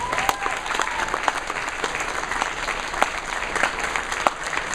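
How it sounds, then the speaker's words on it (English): A convention crowd at a closing ceremony applauds the Boffer Combat team, steady broadband clapping filling the room throughout with a faint tone running underneath. "Everybody give them a round of applause."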